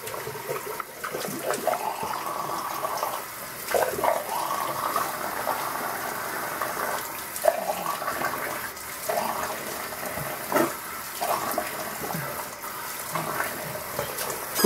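Tap water runs steadily at a bathroom sink during a shave, a continuous close wash of flowing water with a few brief splashes and clinks over about fifteen seconds.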